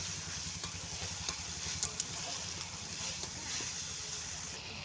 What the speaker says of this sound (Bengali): আবার একটু মশলাটাকে ভালো করে কষিয়ে নিচ্ছি।